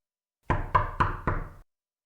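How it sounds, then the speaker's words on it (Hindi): Four firm, evenly spaced knocks on a wooden door, close and clear against silence, as a sound effect in a Hindi thriller audio drama. "आगे बढ़कर दरवाजा खटखटाया"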